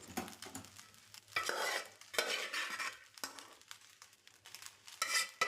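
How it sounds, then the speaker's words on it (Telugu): Leftover rice slowly stirred in a pan, soft scraping strokes coming in uneven bursts with light clinks of a spoon against the pan and a faint sizzle beneath, close and fairly quiet, with no talking. "మెల్లగా స్లో కలపాలి తొందర తొందర కలపద్దు"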